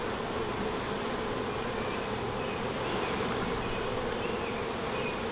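Honeybees in a newly set-up hive buzz around their queen during a first inspection, a dense, continuous hum of many wings close by, steady and fairly soft throughout with no one talking.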